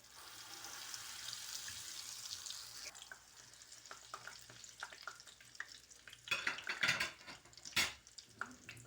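Potato and carrot cheese kababs frying in a pan of oil, a continuous soft sizzle at first that thins out, then a few louder scrapes and clatters of utensils against the pan near the end.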